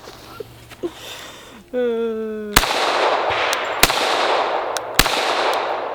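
An FN FNX pistol is fired outdoors in three sharp, loud shots about a second apart, over a steady hiss of background noise, with a brief voice heard just before the first shot.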